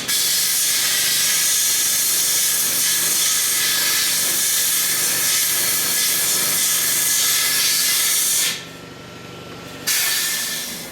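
High-pressure air hisses through the fuel tank of a Troy-Bilt snow blower with a Tecumseh Snow King engine, a loud, steady, close blast that cuts out briefly near the end and then resumes.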